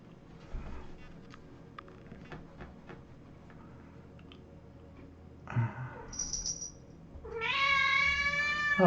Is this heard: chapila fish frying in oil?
no